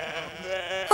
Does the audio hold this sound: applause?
no